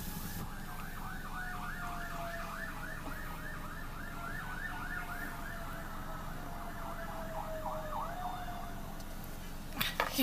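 An emergency vehicle siren yelps in rapid, rising-and-falling cycles, moderately distant and persistent over a low ambient rumble, with no voices, closing with a few sharp knocks.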